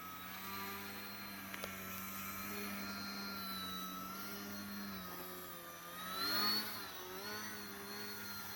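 Electric motor of a radio-controlled Radiolink airplane in hover mode, a steady whining drone with shifting pitch that swells briefly as the throttle rises, heard without talking.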